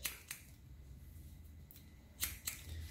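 Scissors snip through curly, kinky hair during a haircut, a few sharp close clicks spaced irregularly over quiet room noise.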